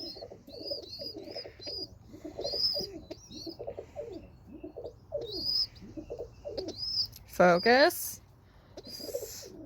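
A pet pigeon coos in soft repeated low phrases while being hand-fed in a loft, with a few higher chirps and a brief sharp call near the end, under a person talking.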